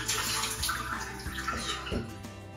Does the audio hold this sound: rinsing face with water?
yes